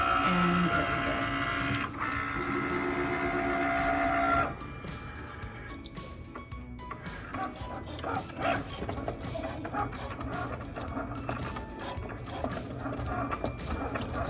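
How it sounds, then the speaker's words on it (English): A Cricut Maker cuts vinyl: a steady mechanical whir with clicking carriage movements for the first few seconds, then quieter intermittent ticks and shuffling handling noises at close range. "So the Cricut's now cutting out our 3 colors of vinyl, which doesn't take very long"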